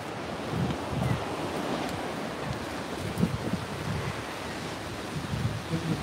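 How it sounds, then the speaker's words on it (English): Ocean waves crashing on an Australian beach, a steady broad rushing wash with gusty wind noise, moderately faint and continuous. "Smashing against the waves."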